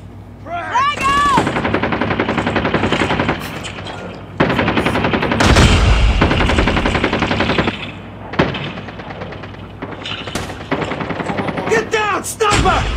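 Gunfire in the Call of Duty Mobile video game, with loud sustained bursts of shots and explosions running through most of the scene alongside other game effects and occasional short voice sounds.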